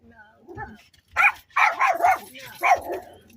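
A dog barks several times nearby in quick, sharp yaps mixed with whiny sounds, and a person's voice is heard around the barks.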